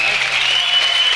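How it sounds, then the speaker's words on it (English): Brief, steady applause from a debate audience for two panelists, a dense even wash of clapping heard for about a second. "A round of applause for both of our panelists here."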